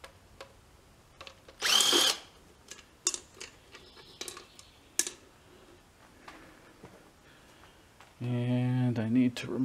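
A power drill with a Torx bit runs in two short loud bursts while working on a 2003 Saab 9-3 during a spark plug change, with clicks and handling noises between and someone talking.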